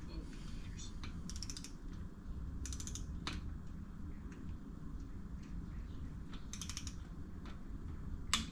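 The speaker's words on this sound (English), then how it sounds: "Now we're going to tighten up this other guy, the Allen bolt here." A ratchet tightens an Allen bolt in short bursts of quick clicking, heard up close over a steady low background hum, with a few scattered mechanical taps between the bursts.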